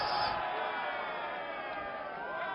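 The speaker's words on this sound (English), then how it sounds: "The crowd erupt" Crowd at a crown green bowls match erupting in loud, sustained cheering and applause that starts at full volume and holds steadily throughout, dense and close.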